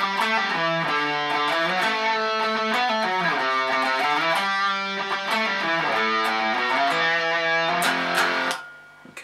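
A distorted electric guitar plays a lead solo line from a song, a fast run of picked notes shifting a pattern across different starting pitches, loud and alone before cutting off near the end.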